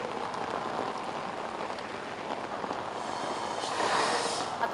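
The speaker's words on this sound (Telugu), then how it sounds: "ఉరుములు మెరుపులతో కూడిన వర్షం ఇంకా భారీగా హైదరాబాద్ నగరంలో కురుస్తున్న పరిస్థితి" Heavy rain with thunder and lightning pours over Hyderabad city, a steady wide hiss of falling water and drops on surfaces that swells slightly toward the end, with no voices.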